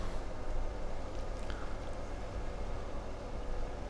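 A farm tractor mows a field in the farming game Hof Bergmann, giving a steady, low engine drone with a constant broadband mowing rush that holds evenly throughout, with no voices.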